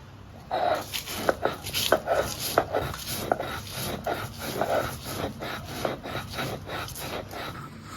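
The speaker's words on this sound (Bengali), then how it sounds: "মরিচগুলো আমি এখন বেটে নিব পাটার সাহায্যে" Fried chilies being ground with salt on a stone pata, a steady series of close scraping, rubbing strokes in an uneven rhythm with faint background noise.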